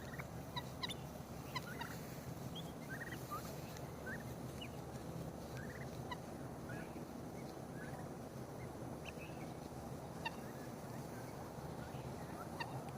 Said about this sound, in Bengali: এটা হলো টার্কি টার্কি মুরগি এটা বেশ বড় হয়েছে